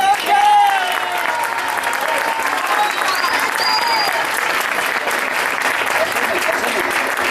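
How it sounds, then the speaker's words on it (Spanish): A large audience applauds loudly and steadily for a singer at a Galician folk performance, the clapping dense and continuous throughout, with a brief whistle or cheer early on and faint voices mixed into the crowd noise. "vamos a recibirla con un fuerte aplauso"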